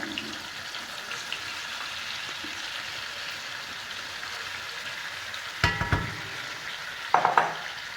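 Chicken tikka frying in a pan with its yogurt mixture, giving a soft continuous sizzle, then a few louder stirring scrapes near the end.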